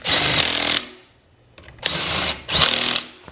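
A power tool tightens bolts on the center bearing plate of a new garage door torsion spring during a broken spring repair, in three loud, whirring bursts separated by short pauses.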